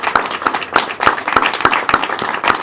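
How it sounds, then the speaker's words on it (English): Rhythmic, evenly spaced claps at a press conference, roughly three per second, close and fairly loud, like a small group applauding briefly. "Yes, let's clap for them."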